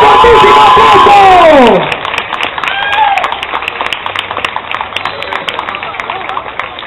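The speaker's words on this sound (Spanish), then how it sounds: "¡Un fortísimo aplauso!" Audience clapping and cheering at a live anime fan event follows an announcer's drawn-out shout, then a steady ripple of applause and crowd noise continues.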